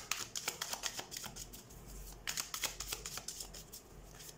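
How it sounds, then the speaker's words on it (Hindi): Tarot cards being shuffled by hand in a quiet room, a steady run of soft, crisp riffling flicks with brief pauses between bursts, close and fairly faint, with no talking. "so let's shuffle the cards and let's see"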